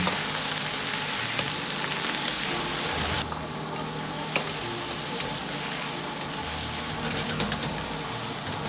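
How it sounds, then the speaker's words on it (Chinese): Chicken pieces pan-fry in oil for a green pepper chicken dish, a dense, continuous sizzle close by that eases slightly partway through, with a single soft tap of a utensil. "一面煎炒大概1分半钟左右，炒出鸡肉的油脂"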